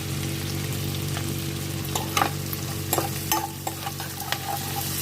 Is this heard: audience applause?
no